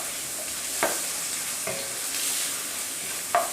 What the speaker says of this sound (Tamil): கொஞ்சமாக கருவேப்பிலை எல்லாத்தையும் சேர்த்து நல்லா வதக்கிடலாம்